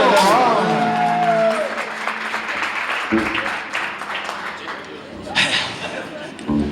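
An audience at a Gaziantep café concert claps in a dense burst of applause, loud at first and then tapering, with voices and crowd chatter mixed through it and a few louder spikes near the end.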